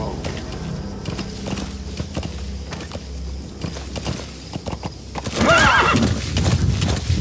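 D-Horse from Metal Gear Solid V: The Phantom Pain trots with steady clip-clop hoofbeats, then lets out a loud, shrill neigh near the end. Game sounds and voices mix in.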